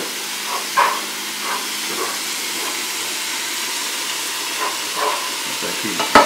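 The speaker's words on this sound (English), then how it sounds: "Sausage cooking here, our onions, our fresh sage, a little salt and pepper." Vegan sausage cooks in a pan with onions and fresh sage, giving a steady moderate sizzle with occasional stirring scrapes and clicks, no talking.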